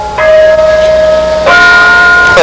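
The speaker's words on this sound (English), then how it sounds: "Every time that doorbell rings and you lose 5 minutes" Doorbell in a workshop rings with two loud, close chime tones in succession, each ringing on and decaying, with no voices.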